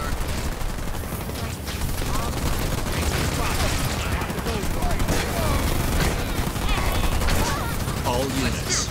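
Dense battle gunfire from the Halo Wars 2 video game rattles continuously with overlapping bursts and booms, loud and busy throughout.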